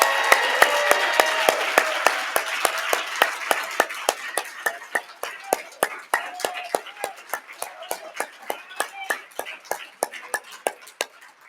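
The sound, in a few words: audience applause for Charlie Miller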